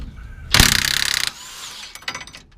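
A ratchet works loose a half-inch bolt at the top of a Ford Bronco shock mount, a loud run of rapid close clicks followed by a short pause and a few sharper metallic clicks and clanks.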